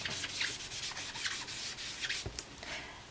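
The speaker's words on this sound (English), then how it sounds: "I wanted to just burnish it so it colours the white cardstock in" Ink being burnished onto white cardstock gives soft, close, steady rubbing strokes in a quick repeated rhythm, quiet and alone.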